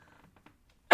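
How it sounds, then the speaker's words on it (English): A single sharp cough bursts out near the end after faint murmuring, one abrupt close-up vocal explosion. "let me cough a moment"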